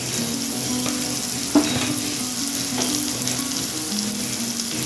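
Potatoes frying with salt and turmeric in a pan give a steady close sizzle, with soft stirring scrapes and one sharp utensil knock partway through.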